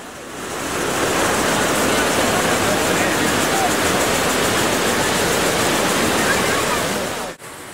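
The Iguazu-area waterfalls, one of nearly 300 separate falls, roar in a loud, steady broadband rush of falling water, continuous and close, fading briefly at the end.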